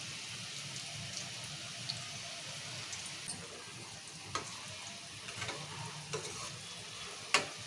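Okra pakoda batter being stirred by hand with maida flour, a continuous close wet squishing and mixing texture with a few sharper clicks, no talking.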